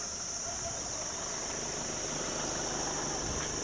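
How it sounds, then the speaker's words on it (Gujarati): A Kia Sonet HTX diesel automatic engine idles steadily after a remote start, a continuous low rumble with a faint high whine running alone throughout. "જેમ જોઈ રહ્યા છો, એન્જિન અત્યારે ચાલુ થઈ ગયું છે."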